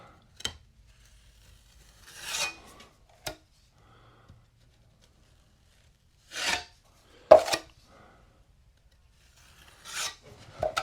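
A drywall knife scrapes joint compound across a wall patch in a few separate rasping strokes, each lasting about a second, with quiet gaps between them and no talking.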